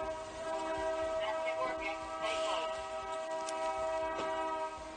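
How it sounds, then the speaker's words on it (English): A train horn sounds in the distance with steady sustained harmonic tones, carried over a constant low background rumble, with no other sound competing. "Wait, are they honking? No, that's the train. That's a train."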